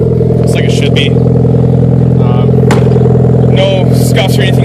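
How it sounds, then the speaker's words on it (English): A Mitsubishi Evo car engine idles close by, a steady low rumble that holds evenly throughout with a few light clicks and rustles on top. "As you can tell, it's still idling just fine."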